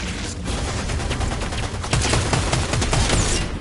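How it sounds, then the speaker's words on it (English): Fortnite bot firing in a battle royale match: a dense, continuous patter of overlapping gunshots, mid-distance and fairly loud, intensifying toward the end, with no speech. "Bot shooting is awesome."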